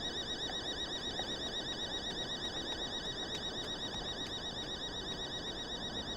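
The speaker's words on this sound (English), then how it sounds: "Why is there so many alarms?" Several electronic alarms sound at once in a third-person video game, with repeating warbling tones pulsing steadily over a low background hum, fairly faint and continuous.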